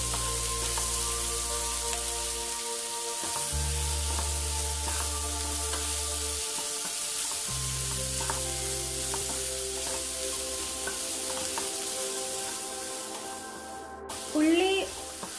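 Onions stirred while frying in a pan for egg chilli, a steady sizzle running throughout with faint scraping of stirring and a brief louder clatter near the end; low background hum underneath.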